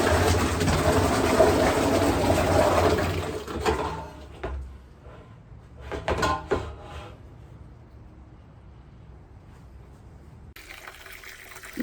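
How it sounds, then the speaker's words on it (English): Water from a tap runs into a jar being filled for homemade banana-infused rum, a steady close splashing stream for about four seconds that breaks off into a few short bursts and then quiet. "Now I'm gonna fill it full of water."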